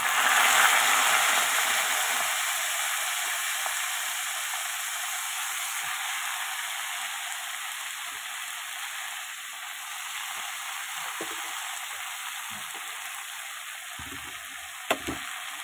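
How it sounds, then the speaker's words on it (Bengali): Pumpkin greens fry in a wok of hot oil with five-spice tempering, giving a loud, continuous sizzle that hisses steadily and eases a little, with a brief clatter near the end. "কড়াইতে তেল দিয়ে 5 ফোড়ন দিয়ে দিয়েছি। এবার বসাবো কুমড়োর শাকটা।"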